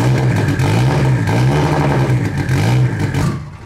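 A loud, built Nissan S15 drift car with an aggressive cam runs close up, its lumpy, choppy idle rising and falling in revs before cutting off near the end.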